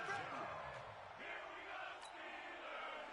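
A stadium crowd at an American football game roars steadily in the fourth quarter ahead of a big third down, a broad distant wash of cheering that holds for a few seconds.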